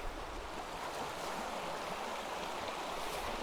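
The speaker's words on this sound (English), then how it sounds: "Water moves nice and fast" A fast-flowing stream rushes through a swimming hole in a steady, broad wash of water noise, close and continuous with no pauses.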